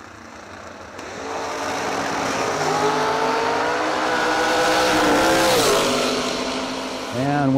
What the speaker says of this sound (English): Austin St. Denis in the dragster